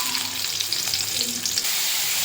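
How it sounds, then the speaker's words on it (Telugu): Onions sizzle steadily in two to three spoons of well-heated oil in a pan for a body curry, producing a loud, continuous close-up frying hiss. "ఆయిల్ బాగా కాగిన తర్వాత దాంట్లో ఆనియన్స్ వేసుకోవాలి."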